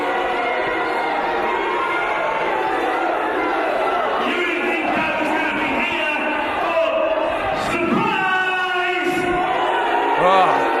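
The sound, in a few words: wrestling crowd booing the managing director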